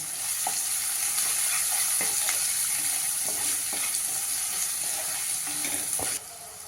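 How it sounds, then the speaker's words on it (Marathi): Onion added to hot oil sizzles in a steady, close hiss, with light clicks of a spoon stirring the pan before the sound drops off at the end. "आता त्याच्यावर आपण हा कांदा घालूया"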